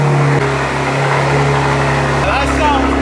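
A BMW M4 engine with a valved exhaust cranks and fires up, settling into a loud, steady idle with a deep exhaust rumble; a second surge near the end.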